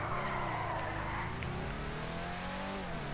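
A car in Grand Theft Auto 5 drifting, its engine droning steadily with tire squeal and skidding throughout, loud and close with no talk over it.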